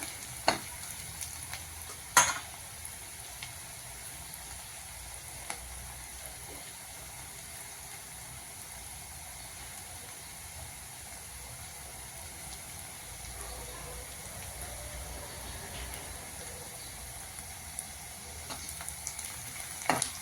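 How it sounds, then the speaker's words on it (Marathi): Onion sautés quietly in a pan, a faint, steady sizzle with occasional scrapes and clicks of a spoon stirring, low and close with no talk. "हे बघा आपला कांदा परतत आला आहे चांगला"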